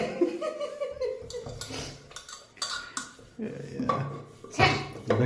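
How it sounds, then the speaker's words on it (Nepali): Dishes being washed: cutlery and pots clink and clatter in irregular bursts close by, with talk and some laughter between the knocks. "म भाँडा मिच्छु"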